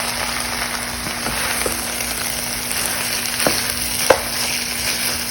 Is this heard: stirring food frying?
yes